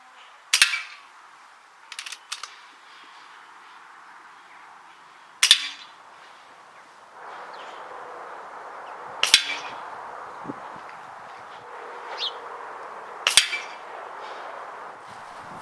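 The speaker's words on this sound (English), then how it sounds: "Remember what I said about testing your air rifle on a piece of scrap tin?" Air rifle pellets, from a 15 foot-pound gun, strike a piece of scrap tin outdoors on grass, five or six sharp metallic pings spaced a few seconds apart over a quiet background hiss.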